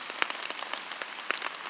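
Rain falls on a hammock during a camping night, making a steady close patter with a few sharper, louder drops striking the fabric.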